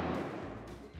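New Year's Eve fireworks bursting nearby, a loud, dense rumbling crackle with heavy low booms filling the whole second and fading slightly toward the end.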